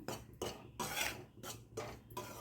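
Millet flour is stirred and roasted on low flame in a pan, with about six rhythmic scraping strokes of a spoon against the metal, close and fairly loud.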